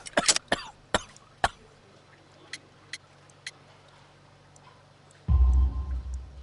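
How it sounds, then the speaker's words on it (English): A sick worker whose lungs are full of coal dust coughs in a cluster of harsh, sharp bursts, then gives a few fainter isolated coughs before a sudden low rumbling noise takes over. "You have a severe cough."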